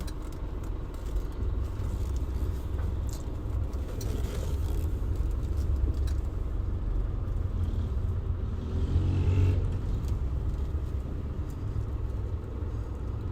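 A car drives in traffic, giving a steady low engine and road rumble heard from inside the vehicle. The drone swells slightly midway, and no voices are heard.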